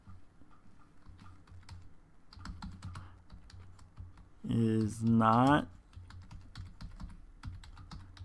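Computer keyboard typing runs as a steady stream of light clicks through most of the span, briefly broken by a short burst of a voice speaking.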